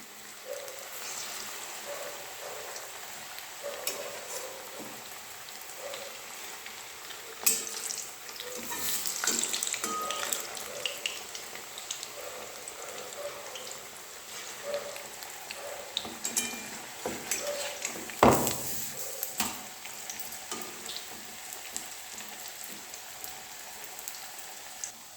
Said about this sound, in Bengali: ওই পিঠ হয়ে গেছে ভাজা, আবার এই পিঠে করে দিলাম উল্টে